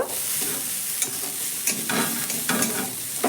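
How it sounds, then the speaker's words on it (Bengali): Vegetables with a little garam masala powder are stirred in a frying pan, a steady sizzle and frying hiss broken by scraping strokes of the spoon roughly every second, close and fairly loud with no talking. "এবার আমি এখানে দিয়ে দিচ্ছি সামান্য একটু গরম মশলার গুঁড়ো, তারপর ভালো করে মিশিয়ে নেব।"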